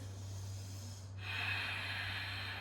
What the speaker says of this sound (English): Powerful inhales and powerful exhales through your nose.